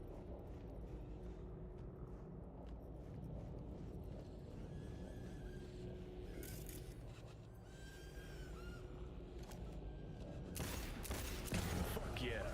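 Bursts of gunfire from the Cyberpunk 2077 video game buried in a dense, continuous game soundscape, with louder volleys near the end.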